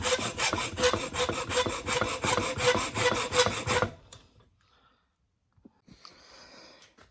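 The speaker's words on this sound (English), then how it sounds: "Put your safety glasses on and take the hacksaw. If you got a pipe cutter, works even better. Just cut them off." A hacksaw cuts through a metal microphone stand pipe with fast, steady back-and-forth rasping strokes, close and loud for about four seconds, then stops, leaving faint handling clicks and knocks.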